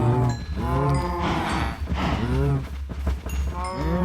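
Cattle mooing in a survival video game, several drawn-out moos overlapping and repeating steadily across the stretch, loud and close with a game background beneath.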